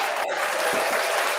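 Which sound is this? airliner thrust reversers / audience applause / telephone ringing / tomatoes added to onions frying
audience applause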